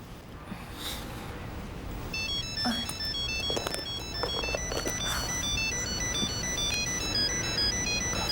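A phone ringtone plays a repeating electronic melody, with rustling and soft breathing underneath.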